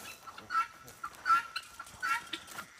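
Chickens on a muddy farm give soft, scattered clucks and short calls, fairly faint and a little distant, coming in irregular bursts over quiet background.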